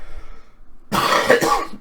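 A single close cough from someone with a cold, after a short quiet pause, a rough burst with a throat-clearing quality.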